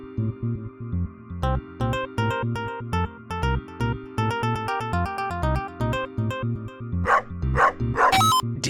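Dogs in the sci-fi game Spheres: The Ancient Fuses give repeated sharp barks and yips over a steady droning tone, the barking coming in quick irregular bursts and turning rougher and louder toward the end.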